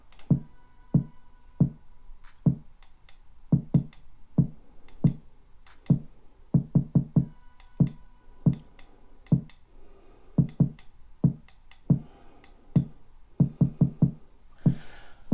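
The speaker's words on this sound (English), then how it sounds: "So here's the kick drum." Punchy kick drum hits playing alone in an uneven groove, some struck in quick doubles, each short thump dry and close.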